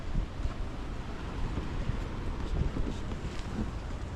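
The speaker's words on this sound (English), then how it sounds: "it's real windy out" Strong wind buffets the microphone at a beach parking spot beside a van, trees blocking the view, roaring as a steady, broadband rush with low gusty rumble throughout and no voices.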